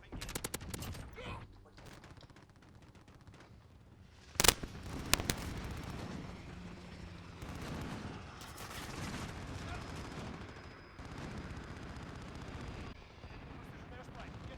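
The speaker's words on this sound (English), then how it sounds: "Precision airstrike. Get down." Bursts of video game gunfire and a precision airstrike crackle and boom in rapid volleys, with a sharp loud blast partway through, mixed under in-game voice callouts and people talking.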